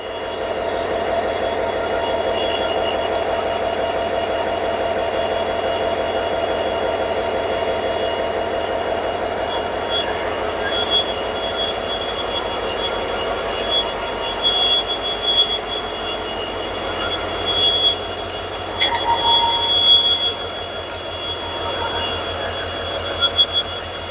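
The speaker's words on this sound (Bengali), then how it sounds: "আপনারা WDG-4 ইঞ্জিনের যে শব্দ, তাতে তার ক্ষমতা কতটা সেটা বোঝা যাচ্ছে" A South Eastern Railway WDG-4 diesel locomotive hauls a track-laying train, its engine giving a loud, continuous droning roar with steady tones and occasional higher metallic squeals over the rumble.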